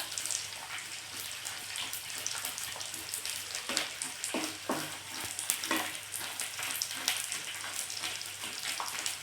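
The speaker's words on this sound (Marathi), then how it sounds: "थोडा थोडा टाकून छान असा मध्यमाचेवरती डिंक तळून घ्यायचा आहे" Edible gum (dink) fries in hot oil in a pan at medium heat, giving a steady, dense crackling sizzle with scattered louder pops and bubbling bursts throughout, no voices.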